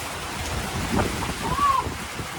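Heavy rain pours steadily in Thailand on a hot day, a dense even hiss with a faint rumble underneath, close and continuous throughout.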